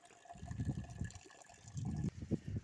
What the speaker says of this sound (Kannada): ಇವಾಗ ಕುಡಿಯೋಕ್ಕೆ ನೀರು ಹಿಡ್ಕೊತಾ